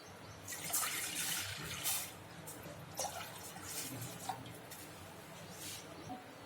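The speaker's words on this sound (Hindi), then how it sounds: "अभी मैंने एक कढ़ाई है, उसमें हम पानी डाल देंगे 3 कप।" Water is poured into a kadhai to start jalebi sugar syrup, producing a splashing, gurgling stream with a few louder pulses, fairly close and alone without talk.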